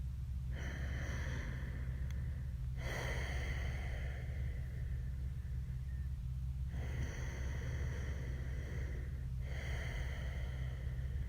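Slow, deep breathing during a held yoga warrior pose, close and audible, with long airy inhales and exhales in four even cycles over a low steady hum.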